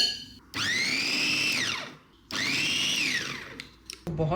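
A kitchen grinder whirs through garlic, butter, salt, black pepper and olive oil for herb butter in two loud bursts of a second and a half each, its pitch rising then sagging, with a short pause between.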